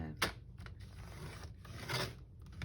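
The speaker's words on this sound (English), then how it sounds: "It sounded like I ripped the paper." Paper rasps and tears during envelope and pocket crafting, with two quick ripping bursts and softer scraping between them, close and fairly quiet.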